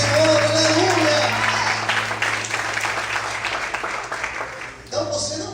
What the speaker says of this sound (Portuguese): Vamos poder aplaudir o Senhor